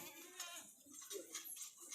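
A goat bleats faintly among livestock at an animal sale, a thin, wavering cry that sits low in the busy background with no speech over it.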